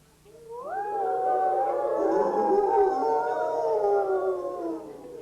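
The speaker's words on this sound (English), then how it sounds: "When lone coyotes howl" A lone coyote howls in a long rising, wavering cry that holds and slowly falls away, loud and clear, with a second voice joining thinly higher up, set in a cowboy-themed kids' song.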